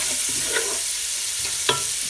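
Prawn fried rice stirred and fried in a hot pan: a continuous loud sizzle with a few quick spatula scrapes and taps against the metal.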